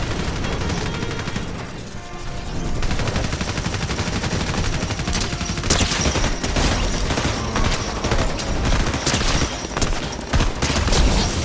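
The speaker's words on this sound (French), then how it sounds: "le fusil d'assaillant à rafale. Qui est avec le viseur." A burst assault rifle in Fortnite fires loud, dense volleys of rapid shots that continue almost without pause, with heavy booming impacts mixed in and no talking over them.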